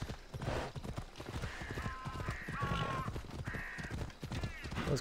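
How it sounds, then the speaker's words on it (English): Crows cawing in Assassin's Creed Odyssey on an island with goats, several harsh calls repeating over steady hoof clip-clop, fairly close, with a faint murmur of background voices. "Those crows sound really, really creepy."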